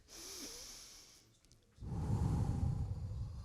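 Deep breath drawn in and let out during a calming movement session, a soft inhale followed by a louder, rushing exhale, close and alone.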